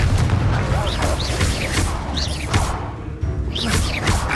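Fiery Confringo spell blasts in the Hogwarts Legacy video game, set against dense game music and combat noise, with repeated booming bursts and whooshes through the fight.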